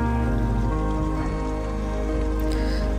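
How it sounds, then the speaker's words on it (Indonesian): Water seeps and trickles down a solid rock wall near a waterfall, making a steady, dense hiss that stays even and close throughout with no voices. "ada air yang merembes dari dinding-dinding batu"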